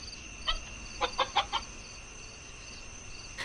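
A cartoon chicken clucks in a quick burst of five short, sharp calls while being carried off by a fox, heard close and clear over a faint steady hum, with no speech.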